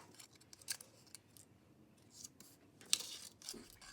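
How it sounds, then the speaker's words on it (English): Scissors snip through paper around hand-drawn holiday cookie shapes, a few quiet, separate cuts spread out with a sharper crunchy snip near the end, no talking. "cut out the negative space, or the space around our cookies, in small shapes or chunks"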